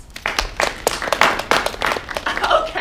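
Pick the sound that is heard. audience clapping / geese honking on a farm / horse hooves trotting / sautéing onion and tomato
audience clapping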